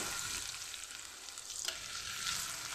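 Garlic frying in a pan, cooked after cinnamon and bay leaves, gives a bright dense sizzle that stays steady and fairly soft, with faint stirring scrapes mixed in and no voices.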